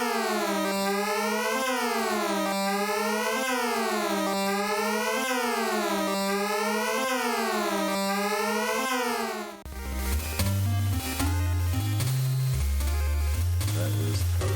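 Police sirens from the retro video game Sam Mallard: The Case of the Missing Swan, a loud synthesized wailing siren rising and falling repeatedly, then giving way to chiptune music with a deep bass line.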